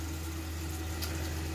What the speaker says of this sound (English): Now with hot water